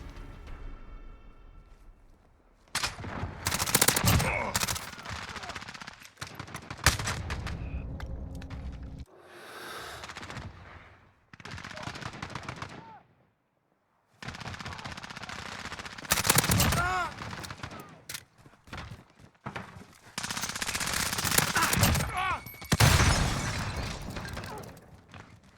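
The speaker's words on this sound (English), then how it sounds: "Taking shot." Bursts of video game machine gun fire come loud and close, in several long rattling strings split by short pauses and silent gaps, with sharp shattering cracks mixed in.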